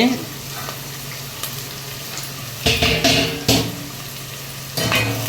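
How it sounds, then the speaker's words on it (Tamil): Onions sautéing in oil give a continuous sizzle, broken by a few louder bursts of stirring and scraping in the pan, with no one talking. "இப்போ வந்து வெங்காயம் ஓரளவுக்கு வதங்கியாச்சு"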